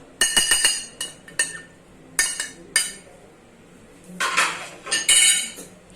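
Spices are mixed into chicken in a bowl with a spoon, producing sharp metallic clinks and scrapes in quick bursts, a busier clatter of knocks near the end, and no talking.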